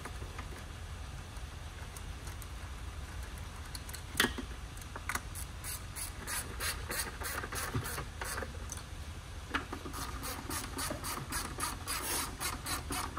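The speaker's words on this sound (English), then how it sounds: "I'm just gonna run up with my ratchet" A hand ratchet clicks in quick, steady runs of sharp ticks while tightening catalytic converter bolts on a Ford Taurus, with short pauses between bursts against a faint background hum.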